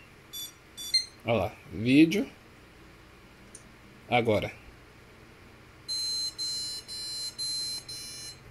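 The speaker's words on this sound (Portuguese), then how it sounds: "Mas aí deu bip de placa de vídeo." A PC motherboard beeps a video-card error code for a faulty RX580 graphics card: several evenly spaced, high electronic beeps sound close and clear at the end, after someone speaks over faint background hum.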